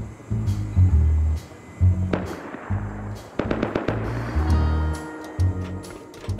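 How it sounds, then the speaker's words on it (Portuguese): Gunfire in the survival game Rust, loud, sporadic bursts and single cracks scattered across the moment with short gaps between them, over an open outdoor ambience. "Será que estão atirando nele?"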